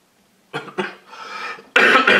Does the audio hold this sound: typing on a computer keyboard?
no